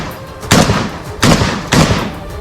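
Gunfire from Hamas fighters shooting at houses in a residential area, heard in news footage as three heavy, booming shots spaced roughly evenly, each with a long ringing decay over a constant background rumble.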